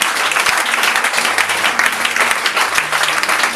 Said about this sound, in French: Acclame le Seigneur pour nous.